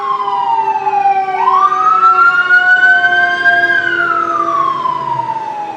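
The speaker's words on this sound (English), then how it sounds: "And then we get a siren." A loud emergency siren wails, its pitch dipping, then sweeping up and slowly falling again over several seconds.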